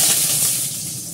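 Garlic hitting hot mustard oil with dried chillies in a kadai, giving a loud, steady close sizzle and hiss for about a second.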